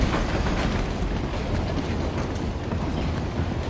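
A train rolling along rails in the video game Uncharted: The Lost Legacy, a steady dense rumble with rattling and clacking that stays loud and constant throughout, with no voices.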